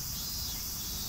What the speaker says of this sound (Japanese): 今後ろでセミの声が鳴いてる